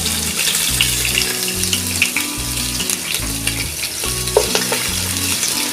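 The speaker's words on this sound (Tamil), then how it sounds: "2 வெங்காயம் கட் பண்ணி வச்சிருக்கேன், அதையும் ஆட் பண்ணிக்கலாம்." Sliced onions hiss and sizzle steadily in hot oil for a vegetable biryani, with occasional stirring scrapes over the continuous frying noise, close up and loud, no voice.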